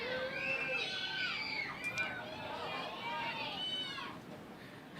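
Young crowd of kids and families at Count Basie Park cheering and shouting for free T-shirts at a women's soccer match, with overlapping excited voices and squeals at close range that fade slightly near the end.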